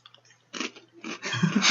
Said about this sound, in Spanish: Perdón, estoy comiendo.